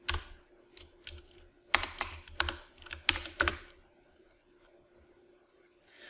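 A computer keyboard clatters in quick, close bursts of keystrokes as a comment is typed into an R script, then falls mostly quiet apart from a faint click near the end.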